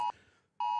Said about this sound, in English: There's an alert. An alarm.